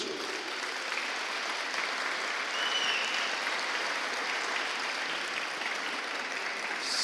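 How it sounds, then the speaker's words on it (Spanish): A church congregation applauds together, dense steady clapping that fills the room throughout with no gaps. "Dale un aplauso a Jesús."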